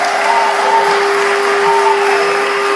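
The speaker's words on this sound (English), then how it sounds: "give another hand of applause" A crowd applauds a speaker at a gathering, a loud continuous rush of clapping with some cheering, accompanied by a steady electronic hum.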